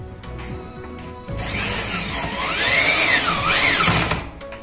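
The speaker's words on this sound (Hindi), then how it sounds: "और ये पेंच मैं इसको साइड से प्लास्टिक वाली जो जगह है यहीं से पार कर रहा हूँ।" A power drill or screwdriver drives screws through the plastic side of a PVC rolling shutter in a modular kitchen, a loud whirring motor rising and falling in pitch for several seconds.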